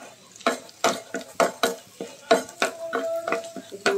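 Dried chili and onion sizzle in hot frying oil while a utensil scrapes and stirs the pan in regular strokes, close and fairly soft.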